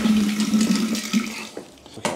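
Water rushes through a hose into a homebrew wort chiller while brewing a double IPA, a steady close gushing flow that thins and then surges briefly again.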